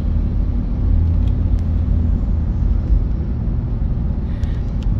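Continuous low rumble of a car driving on a road near Dubai International Airport, heard from inside with steady road and engine noise and no talking.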